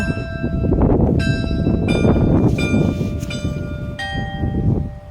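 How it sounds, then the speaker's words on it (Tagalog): Loud church bells ring out at three o'clock in several separate strokes, each leaving a long metallic hum, over a rumbling background. "Biglang tumunog yung ano. Lingganay. Biglang tumunog."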